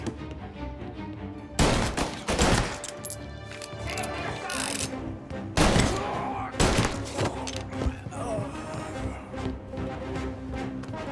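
Gunfire in the Mafia 1 remake, scattered sharp shots and impacts over a dense bed of music and game noise, with voices shouting during the fight.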